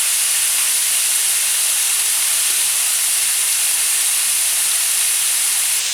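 Beef pieces searing in a very hot pan for a hearty stew, giving a loud, steady, unbroken sizzle that hisses on at the same level from start to finish, with no one speaking.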